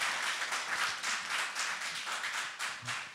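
Brief, fairly quiet burst of studio audience clapping on an Azerbaijani competition show, a fast rhythmic patter of many hands.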